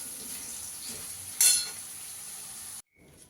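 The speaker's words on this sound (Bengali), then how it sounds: "আলুটাও আমার ভাজা হয়ে গেছে" Potatoes fry in hot oil in a home kitchen, a soft steady sizzle with a sharp brief splash-crackle flare, then the sound cuts off abruptly near the end.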